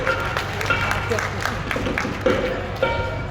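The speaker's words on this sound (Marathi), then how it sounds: "टाळ्या वाजवा बिचारीसाठी" An audience at a village fair clapping for a woman, a brief burst of scattered applause from a crowd mixed with voices talking over it.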